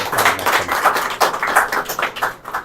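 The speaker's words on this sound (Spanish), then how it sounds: "Un fuerte aplauso entonces" A congregation at a Catholic Mass in a neighbourhood chapel in Luque, Paraguay, bursts into loud, close applause, an energetic patter of many hands with uneven surges that dwindles toward the end.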